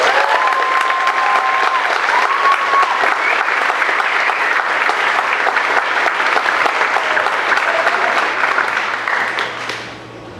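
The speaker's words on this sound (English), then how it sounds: "May you all please give them a round of applause" A large graduation ceremony crowd applauds loudly and continuously for about ten seconds, a thick wash of clapping that fades out at the very end.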